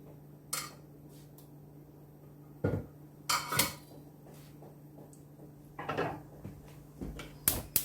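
A cooking pot for pumpkin porridge is set out in a kitchen: several close metallic knocks and clatters land at uneven intervals, separated by quiet stretches, with no speech.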